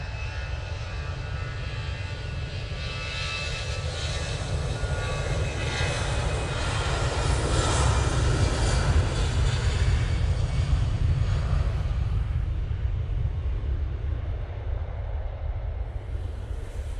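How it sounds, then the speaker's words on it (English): EasyJet airliner taking off from Manchester Airport on a positioning flight, a sustained loud jet roar with low rumble that swells and then slowly fades, with some wind noise and no speech. "EasyJet departing there."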